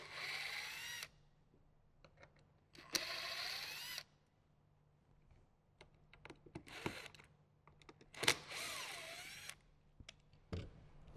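Three T20 Torx bolts backed out inside a Jeep Wrangler JK with a power driver, heard as a few separate whirring bursts between quiet stretches and small clicks, with no talking.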